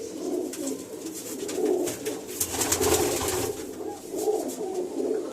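A flock of pigeons cooing in overlapping low throaty warbles, continuous and fairly close, with faint flutter and scuffling in the background.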